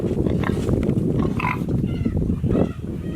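Pigs on a farm grunting low and close, a rough continuous rumble of snorts under a murmured voice, with a couple of sharper squeals rising above it.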